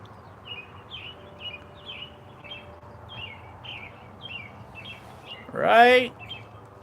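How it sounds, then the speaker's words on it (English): A small bird sings at a railway depot in Scottsboro, Alabama, at six in the morning, repeating short high chirps at a steady pace from a modest distance. A voice briefly cuts in near the end. "We've got a singing bird."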